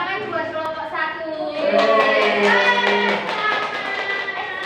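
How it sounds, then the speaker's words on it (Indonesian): A classroom group claps for group 1 in quick, rhythmic taps that build in the second half. Children's voices chant and call out over the clapping. "Tepuk tangan buat kelompok 1."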